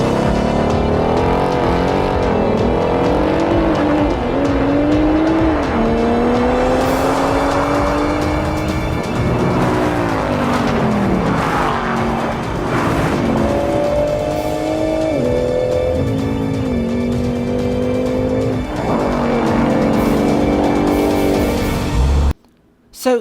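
Engines of a Nissan 400Z, a Toyota Supra and a Ford Mustang Mach 1 roar through a drag race, loud revving with rising and falling pitch as gears shift, continuous and close until an abrupt cut near the end.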